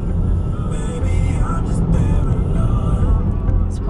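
Steady, loud road rumble from a car driving on a snow-covered highway during a snowstorm, with continuous low engine and tire noise filling the cabin throughout.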